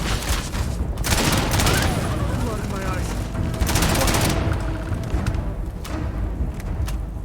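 Heavy, sustained AK rifle fire in Starfield, with repeated close bursts of shots continuing throughout and a few sharper cracks standing out, and a voice briefly audible under the shooting.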